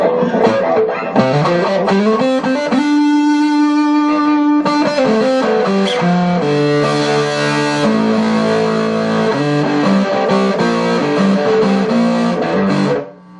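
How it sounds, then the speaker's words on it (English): Heavily distorted electric guitar playing sustained chords and riffs, loud and saturated throughout, with a long held note early on, then ringing off at the end. "So you can get a lot of distortion out of this."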